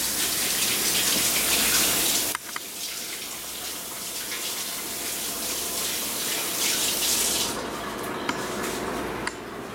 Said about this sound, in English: Now I'm gonna go over and wash my hands really quick.